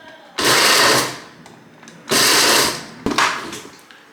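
Black pepper and dried red chillies are crushed in three loud grinding bursts separated by short pauses. It sounds like a close, buzzing small grinder, with no voices.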